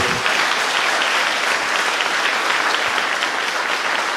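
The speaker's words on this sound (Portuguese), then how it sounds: "Vamos aplaudir bem forte o nosso Senhor." Church congregation at a Sunday celebration service applauds loudly, a dense, even roar of many hands clapping without letup.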